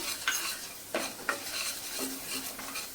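A spoon stirs Malvani masala into a mixture frying in a pan, with soft sizzling and a few distinct scraping clinks over about three seconds, fairly quiet with no voices.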